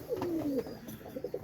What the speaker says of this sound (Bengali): খুবই ভালো মানের কবুতর এবং রেজাল্টেড কবুতর